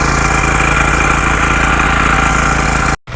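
A tractor engine runs loudly and steadily close by on a farm field after ploughing, a continuous mid-pitched drone that cuts off abruptly near the end.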